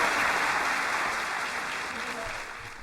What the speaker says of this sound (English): they're all clapping